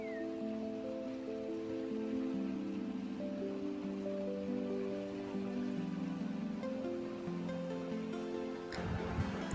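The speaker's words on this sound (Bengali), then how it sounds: "এখন একদম কিন্তু জোরে বৃষ্টি হচ্ছে" Heavy rain falling in the hills, a steady continuous wash with a constant drone running beneath it, ending in a brief louder rush.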